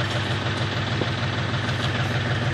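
A motorbike sits idling nearby, a steady low rumble with a continuous mechanical hum that holds level throughout, with no voices.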